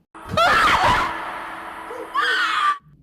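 A woman's loud, anguished scream in pain from a film scene, rising sharply at the start, then fading into a lower wail before a second shorter cry, close and alone.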